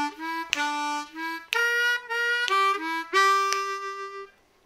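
A blues harmonica triplet lick on a C harmonica, played slowly and alone: a run of reedy sustained notes alternating between draw and blow, stepping up and down in pitch before the last note fades out.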